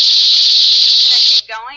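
Hand-raised sea otter pup screaming, a loud, piercing, sustained high-pitched shriek lasting over a second, followed by a brief lower wavering cry, close and alone.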